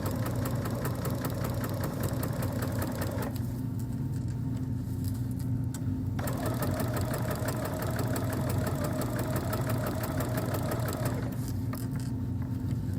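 A modern sewing machine runs steadily through a quilted ornament trivet, its motor giving a continuous whirring drone with rapid stitching ticks, pausing briefly twice before picking back up at an even pace.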